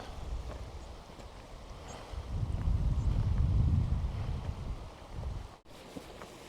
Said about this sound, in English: the higher we go, the worse the wind is